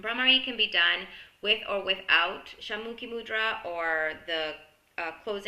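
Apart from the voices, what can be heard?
No everyday noise stands out behind the speech.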